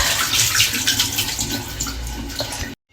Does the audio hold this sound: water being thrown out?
yes